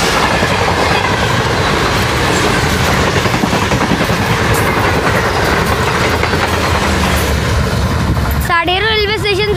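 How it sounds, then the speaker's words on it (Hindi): A train runs through Sadhero railway station, an abandoned stop in scorching heat. Its loud, close rumble and steady wheel clatter fill the whole stretch, and a wavering tonal call rises near the end. "साडेरो रेलवे स्टेशन से तीसरा ट्रेन एक्शन बहुत ही ज़बरदस्त।"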